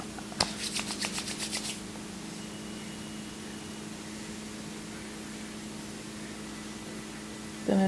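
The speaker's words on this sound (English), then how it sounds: "Rub it in my hands really well." Hands rub Kerastase hair oil between the palms in a quick run of soft, rhythmic swishes close to the microphone. A steady background hum follows once the rubbing stops.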